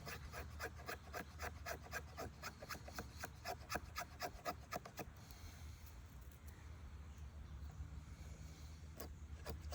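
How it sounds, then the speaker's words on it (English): Rapid rasping strokes of a Boker Plus Mini Tracker knife shaving fat wood for fire starting, a quick regular scraping rhythm for about five seconds before fading into quieter outdoor ambience. "I'm just shaving off bits of fat wood to start a fire"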